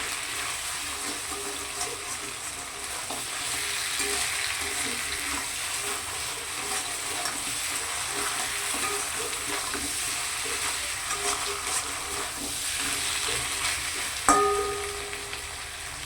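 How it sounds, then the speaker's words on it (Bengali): Mutton is stirred and fried down in a pan, a steady low sizzle with soft scraping throughout and a sharp clank near the end. "ভালো করে নাড়াচাড়া করে নিতে হবে। আরও কিছুক্ষণ কষাতে হবে।"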